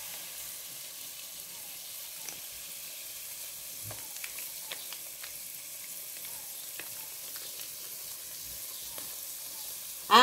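A hot pan with calabresa sausage and tomato sauce crackles at a low, steady level, with scattered soft pops and spatters and a louder clatter at the very end.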